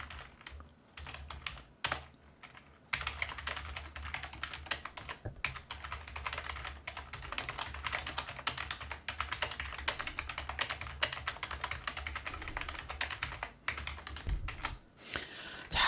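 Computer keys clatter in a fast, dense stream of close clicks that runs almost continuously for about fifteen seconds after a few scattered taps at the start.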